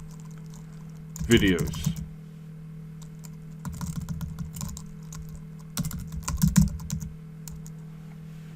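A folder name being typed on a computer keyboard in three bursts of rapid, close keystrokes, with a short spoken word between them over a steady low hum.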